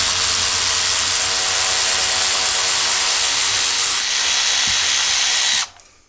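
Milwaukee and Snap-on power ratchets run in reverse to back out a bolt, giving a loud, continuous high whirring buzz that holds steady, dips slightly partway, then cuts off abruptly near the end.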